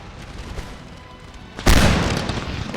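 A volley of troop musket fire in Empire: Total War with Darthmod, a sudden loud booming crack rising out of a low rumbling battlefield din, then a lingering roar.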